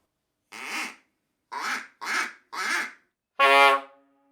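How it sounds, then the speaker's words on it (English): Five quacking blasts from a duck call used as an orchestral percussion instrument: one, a pause, three quick ones in a row, then a longer, brassier final quack, all close and alone. "duck call"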